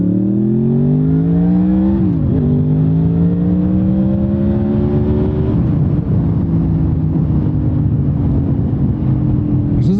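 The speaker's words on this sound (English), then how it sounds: "I think the sound is the best part of this bike. That is fantastic." A Honda VFR800 V4 motorcycle engine revs loud and close, its tone climbing, briefly dropping, then climbing again before holding a steady, throaty drone for the rest of the run.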